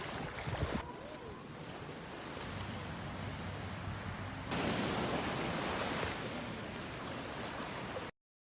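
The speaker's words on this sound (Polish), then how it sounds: "fale się robią w miarę mocne" Ocean waves wash onto Karon Beach in Phuket as a broad, continuous roar mixed with wind buffeting the microphone. A stronger surge swells midway and then stays steady until an abrupt cut.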